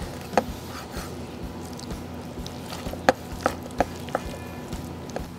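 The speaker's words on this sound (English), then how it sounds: "then I'm gonna give it a little chop with my knife, get some bite-sized pieces." A knife chops smoked pork into bite-sized pieces on a board, a series of sharp irregular thwacks close by, some spaced and some quicker, over faint background noise.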